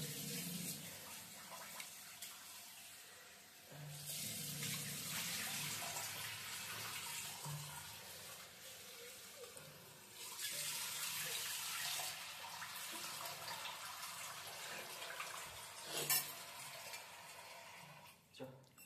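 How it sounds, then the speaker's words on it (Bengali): Running tap water splashing over chicken in a hotel sink, a steady close rush of water with occasional handling splashes, faint voices talking underneath. "জলে ধোবো, জলে ধুয়ে খাবো।"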